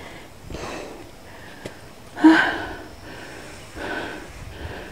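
Heavy, labored breathing from someone who has just climbed 930 steps up a hill, with a few rough gasping breaths and a sharp snort-like inhale, close to the microphone.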